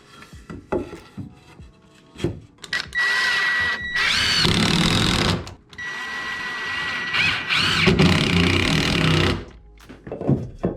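Power drill driving screws into wall paneling during removal and rebuild work, heard in several loud sustained whirring bursts separated by short pauses and small clicks, close by with no talking.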